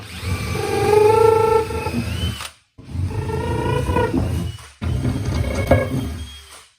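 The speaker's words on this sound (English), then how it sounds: "Now I can go ahead and drill through this way." A power drill boring through a subwoofer speaker box, three loud close bursts of whining motor with short pauses between, pitch rising and falling as it bites into the wood.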